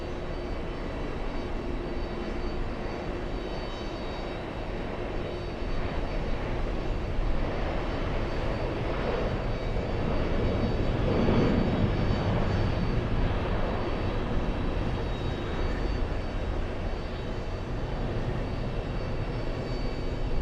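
An Irish Airbus A330-300 airliner, callsign Shamrock 104 heavy, departs for Dublin from JFK, its engines giving a steady, loud jet roar that swells slightly midway and holds throughout with no voices.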